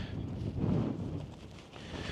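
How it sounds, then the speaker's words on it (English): Low, rumbling gusts buffet the microphone outdoors at a tent campsite on a cold night, swelling briefly then easing into a steady breezy hiss with no voices. "it is actually quite cold and windy tonight"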